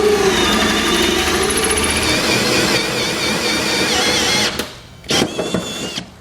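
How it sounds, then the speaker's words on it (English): Power drill driving a 2-inch hole saw through the metal bed of a 2018 Chevrolet pickup: a loud, steady whining grind for several seconds that winds down, then a couple of short bursts of drilling. "We'll now need to drill 4 holes using a 2-inch hole saw."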